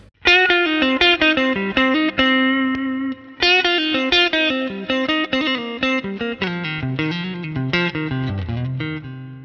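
A custom 1980s Schecter Telecaster plays a melodic line through an Axe effects unit, with sustained, chorused and slightly distorted notes ringing out alone.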